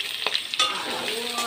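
Potato and tomato fry in oil with a bright, close sizzle, punctuated by a couple of quick utensil scrapes and taps, and no one talking.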